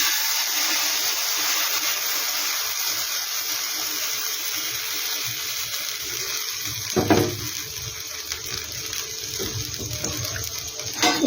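Paneer roll batter hits a lightly oiled hot tawa with a loud, steady broadband sizzle and hiss that carries through the whole stretch, with a few brief scraping accents near the end.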